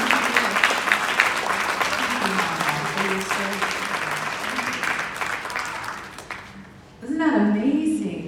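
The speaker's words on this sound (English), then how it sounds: "I think this is another one that deserves a round of applause" A round of audience applause for a guest speaker, steady clapping over faint voices, dying away before a voice begins speaking near the end.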